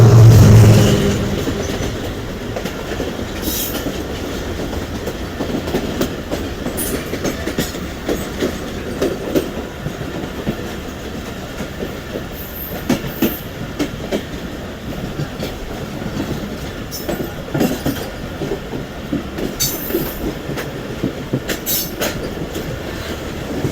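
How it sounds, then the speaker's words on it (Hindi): Rehman Baba Express passenger train, 48 Down, passing close by on the track, with a steady rumble of wagons and dense rhythmic clickety-clack of wheels running for the whole stretch, occasional faint squeals over the top. "ये हमारे सिस्टर ट्रेन थी यानी कि 48 डाउन रहमान बाबा एक्सप्रेस 48 डाउन निकल रही है"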